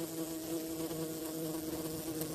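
A steady, high-pitched mosquito buzz drones continuously without a break, close and fairly quiet, with no voices.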